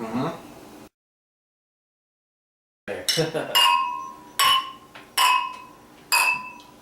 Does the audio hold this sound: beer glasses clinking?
yes